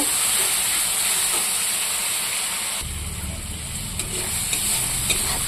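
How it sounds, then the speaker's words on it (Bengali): Turmeric and salt fry in a pan for an aloo soyabean curry, giving a loud, steady sizzling hiss that shifts partway through, with a few light clinks of stirring and no speech. "মশলাটা একটু ভাজা করে নেব।"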